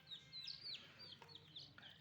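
High, thin peeps from a native country chicken chick with copper-red plumage, a few quick cheeps in close succession over faint background noise.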